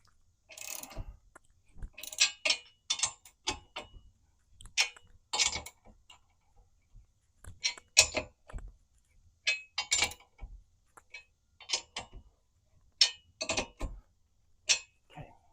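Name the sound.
ratchet cranking down nylock nuts on tire carrier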